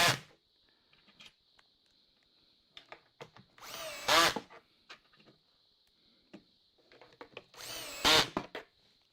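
A cordless drill driving screws into kitchen cupboard drawers: two short, loud whirring bursts several seconds apart, with light knocks and handling clatter of wood in between, close by.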